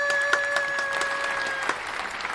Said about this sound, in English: Clap your hands up for Coretta!